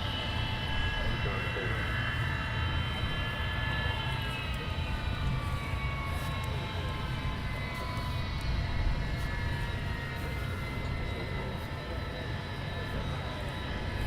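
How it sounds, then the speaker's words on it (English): Avro Vulcan XL426 jet bomber taxiing at an airfield event with engines running, a loud continuous jet roar with shifting whine tones, steady throughout the whole stretch. "the Vulcan will be coming into your screen very shortly from right to left"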